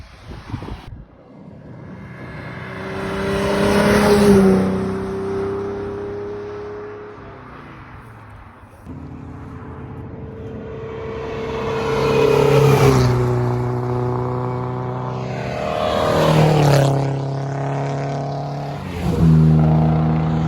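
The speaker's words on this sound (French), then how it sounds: "une belle Jaguar Type E en V12" A Jaguar E-Type V12 engine roars past at a road rally, rising and falling in pitch with strong harmonic revs, followed by a second loud engine sweep building again.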